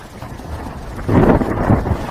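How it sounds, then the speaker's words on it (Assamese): Cartoon thunderstorm effect: a low rumbling swell of wind-like noise that builds abruptly partway through, loud and rolling with no talking. "কিন্তু আহিব এতিয়া ধুমুহা এজাক।"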